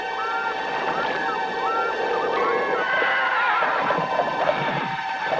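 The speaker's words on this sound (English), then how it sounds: "Some hear the sounds of ghostly horses hurtling up the stone stairs of a castle." A horse whinnies loudly over a busy background of mixed noise, the neighing rising and falling in several shrill bursts.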